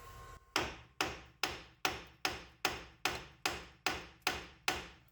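A hammer knocks a bolt out of the front suspension of a Kia Sorento, ten sharp metallic blows landing at a steady, even rhythm of about two per second, close and loud with no talking.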